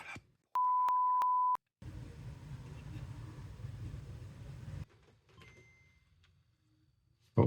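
A Game Boy Color just repaired powers on with a short, loud electronic startup tone, then a steady buzzing hum for a few seconds before quieter noise.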